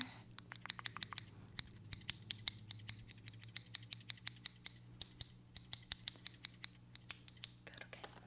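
Scissors snip through hair close up in a quick series of sharp, crisp clicks, some grouped and some spaced out, quiet and with nothing else over them.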